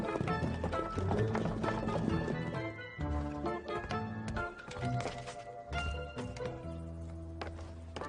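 A horse-drawn carriage rushes along, hooves clip-clopping in a quick, busy rhythm mixed with rattling and music, fairly loud and continuous throughout.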